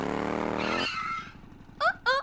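Motorcycle engine revving and pulling away, fading within about a second, followed by two short high tire-squeal skids near the end.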